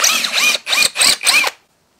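A Ryobi hammer drill bores into material in four loud, close bursts of whining motor and rattling hammer action, each separated by a brief pause, then stops abruptly into silence.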